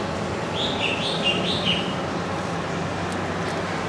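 A trained songbird sings a short run of bright, repeated chirping notes over a steady low background hum, fairly clear, then falls quiet.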